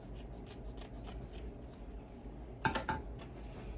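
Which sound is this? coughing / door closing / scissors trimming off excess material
scissors trimming off excess material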